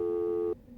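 A single steady electronic tone from a telephone in Vampire: The Masquerade – Bloodlines holds for about half a second and then cuts off abruptly into quiet room noise.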